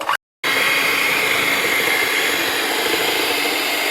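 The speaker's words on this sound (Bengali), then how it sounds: "তারপর এবারে আমি ব্রিঞ্জার দিয়ে ভালো করে ফেটে নিয়ে" A blender whirs steadily and loudly through ground lentil batter for rasbora. The motor drone runs continuously after a brief silent gap at the start.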